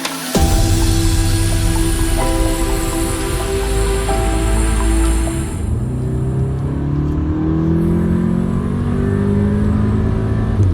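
A 2015 Audi S3 engine revs and accelerates loudly and up close, a steady powerful drone with rising pitch that shifts partway through as the car changes gear.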